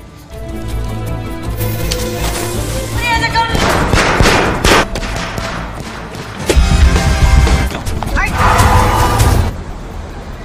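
Sharp, crackling bangs burst in rapid clusters over a loud, busy background, with a dense volley near the middle and more pops toward the end.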